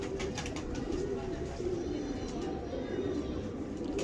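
Pigeons cooing softly in a loft, low repeated coos at moderate distance over a steady background, with faint voices in the surroundings.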